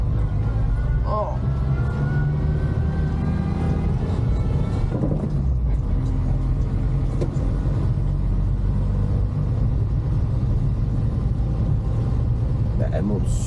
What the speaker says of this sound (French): elle monte super bien les côtes, cette voiture